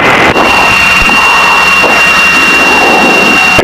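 Piper Seneca light twin aircraft engine running just after start, a loud, steady, continuous roar with a constant whine on top, heard close up with no pauses.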